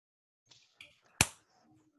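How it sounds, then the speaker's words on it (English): An audience at a STEM academies kickoff event gives a few scattered finger snaps and claps, sharp isolated clicks spaced apart with one louder snap, alone apart from faint voices. "I heard snaps, see snaps and claps."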